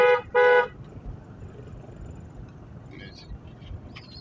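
Two quick, loud honks from a motorbike horn sound back to back at the start of a training ride at a driving school in Khulna, then fade into low, steady outdoor noise.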